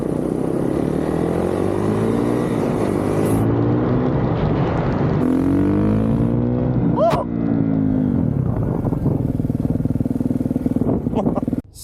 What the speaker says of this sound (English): Street legal KX450 four-stroke.